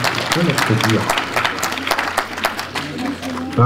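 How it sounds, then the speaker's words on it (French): A seminar audience applauds a speaker being introduced, steady clapping throughout, with voices mixed in and talk resuming at the end. "On peut applaudir"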